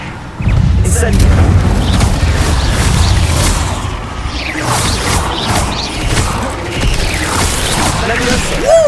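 Rapid spell-casting effects from a wizard video game, with repeated booms, crashes and swooshing bursts layered into a dense, loud, continuous barrage of magical impacts.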